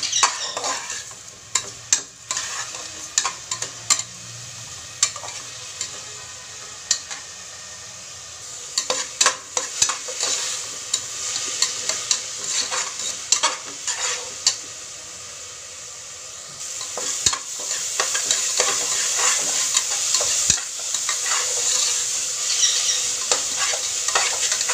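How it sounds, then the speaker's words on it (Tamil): Tomatoes sauté in a pan for vegetable kurma, a continuous close sizzle broken by frequent scraping and clacking of a spoon stirring against the pan, growing denser and hissier toward the end; no one speaks. "இப்போ தக்காளியை போட்டுடலாம். தக்காளி நல்லா வதங்கட்டும்."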